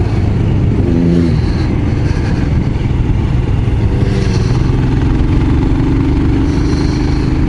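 Royal Enfield Scram 411 engine droning loud and continuous while riding along a wine route road, with steady wind rush and slight swells in pitch.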